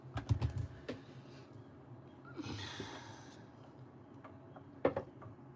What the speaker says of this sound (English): this keyboard is amazing